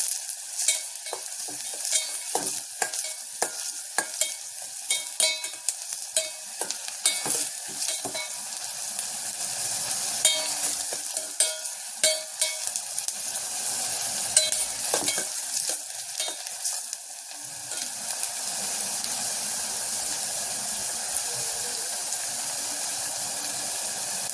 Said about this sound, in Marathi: तर हा आपला कांदा आता चांगला भाजत आलेला आहे.